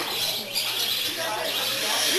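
Exotic birds chirp and coo in an aviary, with faint, scattered calls over a steady background hiss and low hum.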